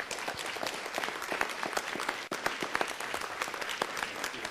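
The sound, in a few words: audience applause at a city council meeting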